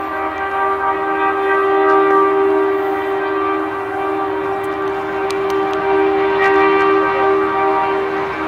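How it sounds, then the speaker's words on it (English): The Maharajas' Express luxury train arrives among sand dunes at Uday Ramsar village near Bikaner, India, giving a loud, steady horn-like tone that holds over a continuous rumble of the approaching rail cars. "and the train is coming."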